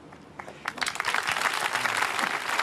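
Audience at a panel discussion breaks into applause, a dense, steady wash of clapping hands that swells in quickly and holds loud to the end, with no speech over it.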